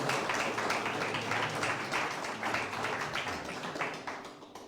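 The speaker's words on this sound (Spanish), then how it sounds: "Denle un aplauso" A church congregation applauding during a sermon, a dense continuous patter of many clapping hands at moderate loudness, gradually tapering toward the end.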